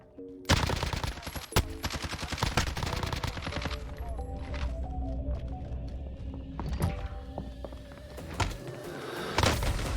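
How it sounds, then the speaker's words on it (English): Call of Duty gunfire against bots, with a shotgun blast among sharp, loud, rapid shots and bursts repeating throughout, with no speech. "He just one pumped me in the fucking face with a shotgun."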